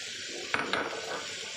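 Clams tossed and stirred in a hot pan for a Thai mixed stir-fry with holy basil and dark soy sauce, giving a few clattering scrapes over a steady sizzle, close up and with no talk.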